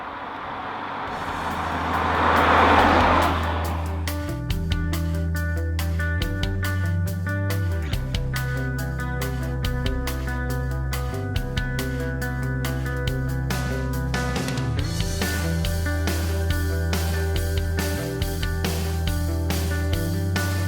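A Volvo S90 R-Design D5 with Polestar tuning drives along, its engine a steady loud drone with whooshing air early on and a shift in tone partway through, heard from close by and alone.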